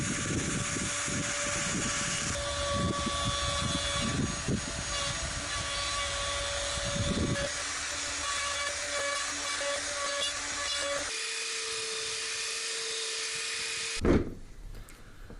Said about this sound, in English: the way it works is the router sits in this track and moves back and forth to give a level cut to whatever's beneath it.